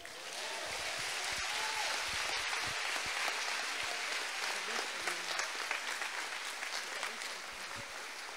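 A church congregation at a thanksgiving service in Guarulhos applauds in praise, sustained clapping that swells and then slowly thins out.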